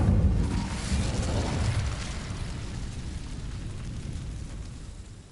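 An Incendio fire spell cast in Hogwarts Legacy erupts as a loud, broad whooshing burst of flame that rumbles on and slowly fades over several seconds.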